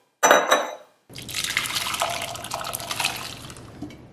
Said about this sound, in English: I'm going to pour this into a bowl.